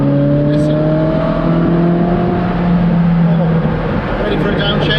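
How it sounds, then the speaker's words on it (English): Ferrari 458 Speciale Aperta V8 engine pulling hard in race mode, a loud, steady droning howl from inside the car, with someone talking over it throughout. "It's a great sounding engine, this."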